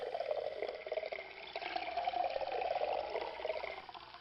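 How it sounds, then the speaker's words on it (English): Filtered water trickles steadily from the upper filter elements into the lower chamber of a Big Berkey gravity water filter, a faint, continuous close-up dripping and pouring with no voices. "they will begin to drip the filtered water down into the lower chamber"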